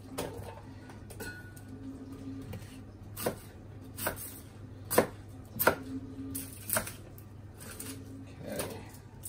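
A knife trims the top and root ends off an onion on a cutting board, leaving a handful of sharp, separate chops against the board with short pauses between them, close up over a low room hum.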